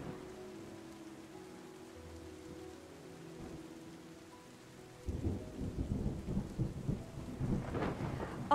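Thunder rumbles low in Terra Nil, first as a faint distant roll, then a heavier crackling peal over steady rainfall that grows louder and denser.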